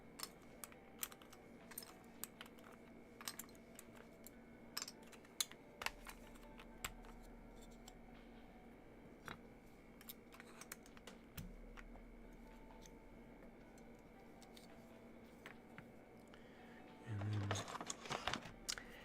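Mechanical keyboard fitted with Aster switches being typed on, a quiet scattered run of light key clicks and taps over a low room hum, with a louder flurry of keystrokes near the end.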